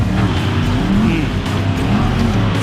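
A drift car's engine roars loud and steady near a race track, with a constant dense drone and hints of tire noise throughout.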